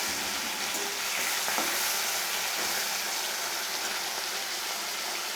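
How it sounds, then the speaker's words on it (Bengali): Fesa fish frying in oil give off a dense, even crackling sizzle, close and continuous throughout, with no voices. "এক এক করে আমি সব মাছগুলোকে ভেজে নিচ্ছি"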